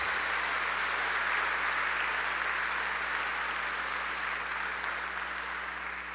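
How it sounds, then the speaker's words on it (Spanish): Loud, sustained applause from a church congregation during a sermon, dense and even clapping that carries on for about six seconds before easing slightly at the end. "Denle un aplauso bien fuerte al Señor."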